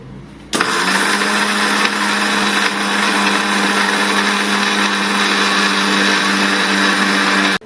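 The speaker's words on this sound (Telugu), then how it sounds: "ఇప్పుడు డ్రై రోస్ట్ చేసుకున్న దాన్ని మిక్సీ జార్లోకి తీసుకొని చల్లారినాక వేపుకోవడం, మిక్సీ తిప్పడం." A mixer grinder whirs loudly and steadily as it grinds dry-roasted almonds, cashews and walnuts into powder, starting abruptly and running continuously for about seven seconds before cutting off, close to the listener.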